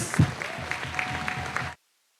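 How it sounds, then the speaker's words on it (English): Brief audience applause at a Northwestern Sports Hall of Fame ceremony, a soft, steady patter of clapping in a room lasting under two seconds before stopping abruptly. "Please give a round of applause to Hall of Famer Dr."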